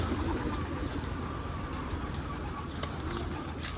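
Pigeons coo softly amid a steady, noisy background rumble, their calls blending into continuous ambient sound with no talking.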